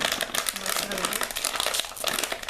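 Plastic snack packaging for chicken ramen potato sticks crinkles and crumples steadily at close range, with bursts of rustling throughout while a voice talks over it.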